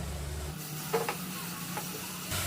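Tomato paste going into spiced vegetables in a hot pan, a low steady sizzle with a few stirring scrapes, quiet and close, with a brief break in the sound before it picks up again.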